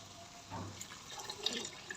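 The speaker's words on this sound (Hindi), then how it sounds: "अब इसके अंदर हम डाल देंगे पानी।" Water being poured into a pan of cooking matar keema, a soft steady splash and trickle at low volume, with faint sizzling and small drips over about two seconds.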